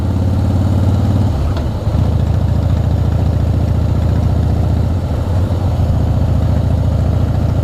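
A Suzuki Hayabusa motorcycle idles at a bike show in Paphos, Cyprus, with a loud, steady, close engine rumble that holds throughout and shifts slightly in tone now and then.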